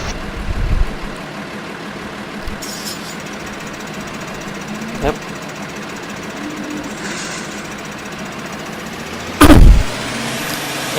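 A Ford tractor engine in Farming Simulator 2013 runs with a steady, gritty drone and an even knocking rumble, joined by a few brief clanks and a loud thump near the end while someone says a word.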